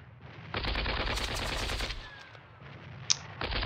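Artillery and gunfire rattle through the wargame Panzer Campaigns Bulge 44, with a loud, dense burst of repeated blasts followed by a pause and renewed firing.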